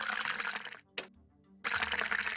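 Water pouring in a Nancy Drew chemical-engineering puzzle game: a short, close liquid trickle and splash sound effect between two bursts of game noise.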